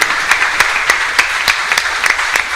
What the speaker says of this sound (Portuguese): dê uma salva de palmas para esse Deus maravilhoso